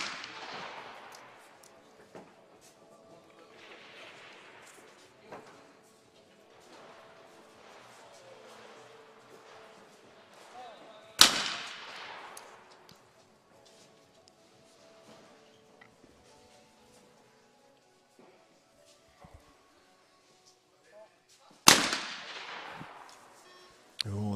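Shotgun blasts at clay targets during a European trap shooting final in Croatia, with two sharp, loud reports standing out over a murmur of distant crowd and commentary noise between them.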